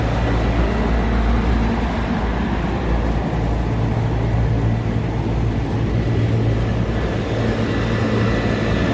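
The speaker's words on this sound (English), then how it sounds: "This condenser fan motor is not running in the right direction." A Trane Voyager rooftop unit's condenser fan motor running backward gives a loud, steady, broadband whoosh with a low rumbling hum, continuous and unchanging throughout, heard up close and without any voices.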